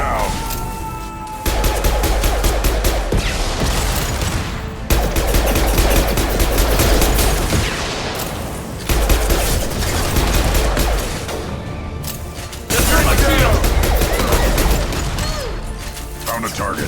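Dense, loud bursts of rapid gunfire with concussive blasts and booms in the video game Mass Effect 2, coming in long waves separated by brief pauses, with game voices shouting over the combat.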